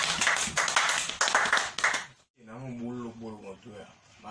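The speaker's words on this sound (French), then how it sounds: "Applaudissez pour eux quand même" Applause from an audience on a radio show: a burst of fairly close, lively clapping for about two seconds, then it stops and a voice speaks.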